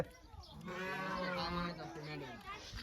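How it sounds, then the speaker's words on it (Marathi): Sheep bleat together in a wavering chorus, fairly close, as they are driven out to graze in the fields, with a voice talking over them. "चला मेंढ्या चालल्यात आता चरायला शेतात"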